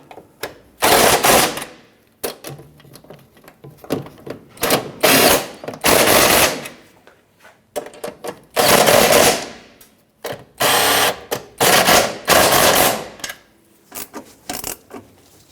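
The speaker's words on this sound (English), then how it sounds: "With all 7 of the anchoring nuts and bolts installed, let's go ahead and tighten them down." A power tool tightening seven anchoring nuts and bolts on a 1997-2006 Jeep Wrangler during a fuel pump module replacement, with loud rattling bursts of a few seconds each, separated by short pauses.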